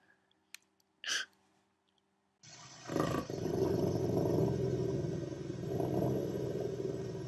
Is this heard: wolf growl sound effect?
yes